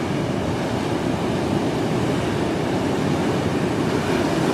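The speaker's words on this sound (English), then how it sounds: "Look at the size of the waves at the back there." Large ocean waves breaking at a St Lucia beach, a continuous heavy wash of surf roaring steadily and loudly with no talk.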